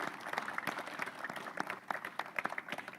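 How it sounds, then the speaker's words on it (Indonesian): Audience of men and women applauding during a live event at a detention centre in Sumenep, scattered claps rising and falling at moderate loudness with some crowd murmur. "Beri tepuk tangan dulu Bapak-bapak, Ibu-ibu."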